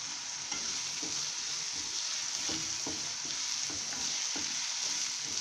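Onions, green chilli and curry leaves fry in a pan for an egg kurma, a steady close sizzle broken by regular soft scrapes of stirring, with no voices.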